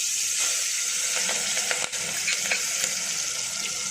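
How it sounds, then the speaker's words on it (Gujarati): Ginger-chili paste tempering in a little hot oil, for a fasting farali dish, makes a soft continuous sizzle with a few sharp clinks and stirring taps, close and without speech. "હવે આપણે એનો વઘાર કરશું વઘારમાં લેશું આદુ મરચાંની પેસ્ટ"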